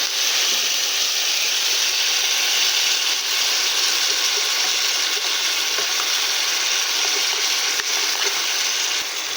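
Ground cumin paste frying in a pan with tomato and spices while cooking chana dal with soybean chunks, a steady close sizzle and hiss that holds through the whole stretch with faint stirring scrapes, no talk.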